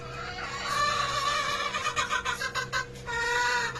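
Kelso stag rooster clucking at close range in a short series of choppy calls, with a steady low hum and other fowl beneath.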